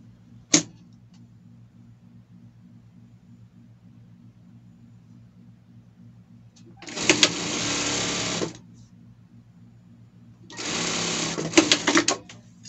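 Sewing machine stitching the hems of trouser legs for a costume, two sustained runs of rapid mechanical whirring separated by a quiet pause, with a short click at the start over a low steady hum.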